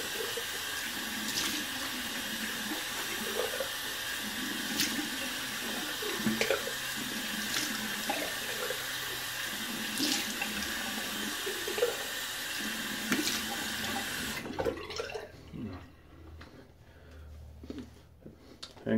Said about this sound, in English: So cold water rinse.